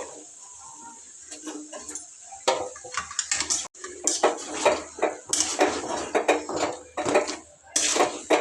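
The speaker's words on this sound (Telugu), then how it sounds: "ఇప్పుడైతే బాగా కలిపేస్తా ఒకసారి" Metal spoon scraping and clinking against a pan while chicken and potato curry is stirred, a steady run of close, uneven scrapes and clatters.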